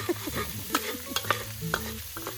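Onion sizzles in a frying pan on a farm while a utensil stirs it, making repeated sharp scrapes and knocks over a crackling hiss, close up with no talking.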